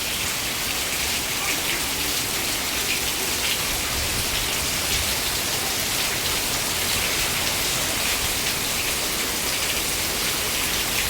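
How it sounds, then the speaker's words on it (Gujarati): Heavy, steady rain pours down in a village during the monsoon, a dense, unbroken hiss that stays loud and even throughout with no voices. "વરસાદ બૂમ પડાવી રહ્યો છે"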